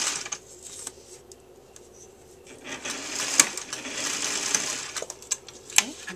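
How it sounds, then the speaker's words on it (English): Sewing machine stitching elastic onto fabric, a fairly quiet mechanical whir with intermittent clicks and small sharp knocks, heard up close. "now you're going to start the sewing"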